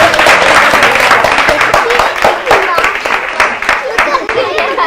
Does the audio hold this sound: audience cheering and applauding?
yes